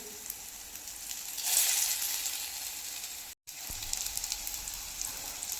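Stuffed bitter gourd frying in a pan, a quiet, continuous sizzle heard close, swelling briefly louder partway through before a short gap, with no talk.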